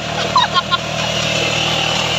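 A motorcycle rides along with a steady, loud engine drone that never lets up, while a few faint chirps flicker briefly near the start.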